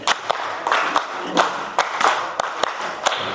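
A class of children claps hands in a steady rhythm, about eight sharp, evenly spaced claps over a continuous background murmur.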